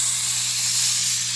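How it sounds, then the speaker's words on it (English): Silicone spray hisses steadily from a can onto a patio shade track, a close, loud, unbroken hiss lasting the whole moment. "take your silicone spray and you go over"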